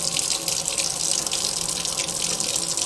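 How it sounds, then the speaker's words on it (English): Water runs steadily from a tap into a cup while a newly installed tankless water heater is being tested. It makes a continuous, close, bright hissing rush with no talking. "Let's get a cup here, get some water and see what we got."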